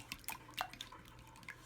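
Egg mixture for cheese and asparagus egg cups is poured into a muffin pan, making a quick series of faint, soft drips and small splats close by.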